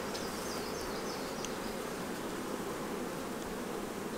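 Honey bees hum on a hive frame, a steady close buzz with faint higher whines from individual bees drifting over it, continuous and without voices.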